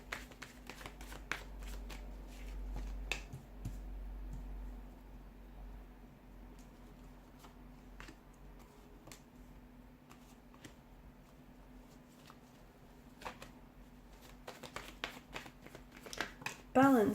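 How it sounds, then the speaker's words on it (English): Tarot cards are shuffled repeatedly, with rapid riffling bursts and soft clicks over a faint steady hum, some handling noise near the end. "give the cards a shuffle"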